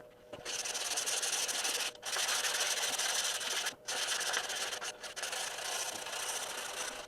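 Sandpaper scrubs hard over wood still coated with sticky adhesive, a loud, close, continuous abrasive rasp in long strokes broken by three brief pauses, with no talking.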